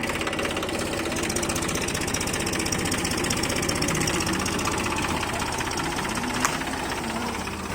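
A tractor bringing a load of fodder to a cow shelter chugs with a steady, rapid mechanical knocking rhythm, close and loud, running continuously without speech.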